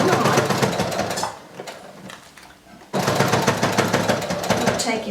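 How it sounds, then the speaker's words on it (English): A sewing machine stitches a fly zipper in loud, rapid mechanical bursts close by, pausing briefly in the middle before running again at full speed. "So I'm just going to go a few stitches, back up a few stitches, and then just go on down through here."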